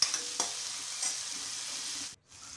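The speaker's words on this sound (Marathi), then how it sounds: "आता कांदा टमाटर सर्व साहित्य आपण तेलामध्ये छान असं परतून घेऊया" Chopped onion and tomato sautéing in hot oil, giving a continuous bright sizzle with occasional stirring scrapes and a brief pause near the end.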